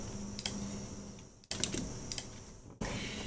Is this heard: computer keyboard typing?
yes